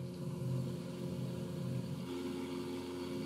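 In Microsoft Flight Simulator 2020, a DeLorean's engines hum in a steady, continuous drone with a slight rise in pitch partway through, sounding alone without talk.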